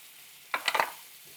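Shrimp dropped into a hot pan with browning garlic for Pad Thai give a short burst of sizzling and crackling, rising then fading within about half a second, close and fairly loud against a quiet background.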